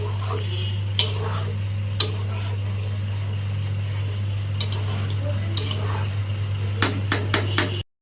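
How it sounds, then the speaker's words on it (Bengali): A metal lid clanks onto a pan of prawn malai curry cooking in ghee, giving a few sharp clinks and knocks over a steady low hum. "ঢাকা দিয়ে রেখে দেবো কিছুক্ষণ।"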